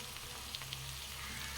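Mutton frying in hot oil with green chillies and curry leaves, a faint, steady sizzle with a low hum beneath and a couple of soft stirring clicks, no talking.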